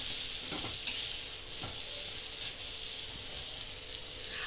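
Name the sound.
stirring rava sheera with almond slivers in a pan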